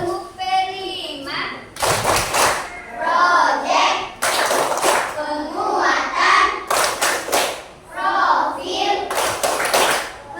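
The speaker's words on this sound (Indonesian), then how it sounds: "Kita tepuk P5." Fourth-grade schoolchildren in a classroom perform a rhythmic clapping chant, bursts of loud group claps alternating with chanted words, repeated in a regular pattern several times.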